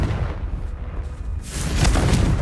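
In Hogwarts Legacy, a Confringo fire blast spell goes off, a loud, bright burst of noisy explosion that swells after a quieter stretch and rolls on to the end.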